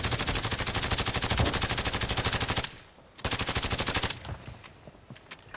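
Video game automatic gunfire in long rapid bursts, a loud fast rattle that stops briefly, resumes, then drops to scattered shots, with no talking over it.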